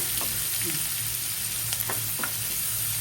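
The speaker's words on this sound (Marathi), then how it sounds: "मम्मी याच्यामध्ये राई जिरा टाकून घेते बघा राई जिरा टाकून घेतलेला मस्त मस्त कांदा शिजून घ्यायचा आहे" Onion frying in oil with mustard seeds and cumin, a continuous close sizzle with occasional light spatula taps, no talking.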